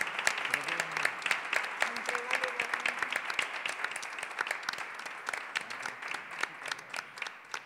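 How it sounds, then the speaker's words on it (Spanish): Applause at a ceremony handing over instruments to the El Chingolo youth orchestra, a steady patter of many hands clapping throughout with scattered voices and speech mixed in underneath. "Hacemos un aplauso porque a esto hay que celebrarlo."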